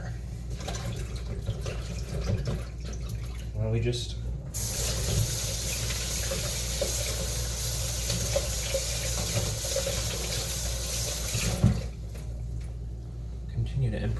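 Hot water runs steadily from a kitchen tap during no-knead bread baking, a loud broadband rush lasting several seconds that starts abruptly and cuts off, with people talking before and over it.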